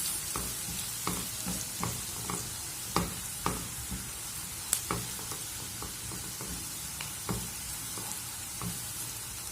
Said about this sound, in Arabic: نشوحهم كويس